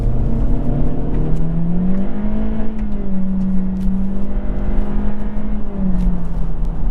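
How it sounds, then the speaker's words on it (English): A 2022 Honda Civic Sport Touring hatchback accelerates hard from a standstill with some wheel spin, its engine droning loud and steady with a rising pitch and a gear change partway through, and no talking. "We are going to do another 0 to 60. I am going to brake torque it this time."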